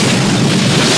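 A dense, loud boom from an explosion in a 1983 film, a sustained low rumble filling the whole second with no speech over it.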